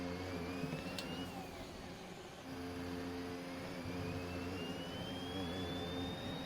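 A Formula 1 car in an F1 video game at Abu Dhabi gives off a thin, rising electric whine from its ERS over a low, steady engine drone, heard continuously at a moderate level.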